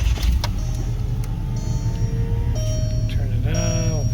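A VW New Beetle idles with its air-conditioning fan on the low setting, a steady low rumble and fan hum filling the cabin, with a few brief tones and clicks over it.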